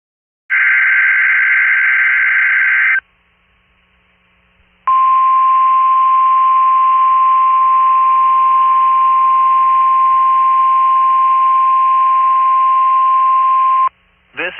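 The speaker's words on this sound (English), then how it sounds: "This is a test of the All Hazards NOAA Weather Radio warning device." NOAA All Hazards Weather Radio warning test: a loud, steady alert tone holds for several seconds, breaks off, then sounds again as a long continuous single-pitched tone lasting about nine seconds before cutting out.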